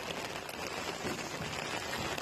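Heavy rain pours down in Karad during monsoon weather, a dense, even hiss of water hitting surfaces that stays constant and fairly faint throughout, with no voices.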